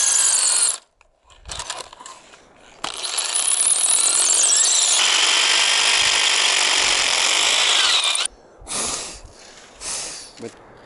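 A weak power drill whirs through long, uneven bursts during concrete work. It stops and restarts and dips in strength, with a few brief pauses between runs.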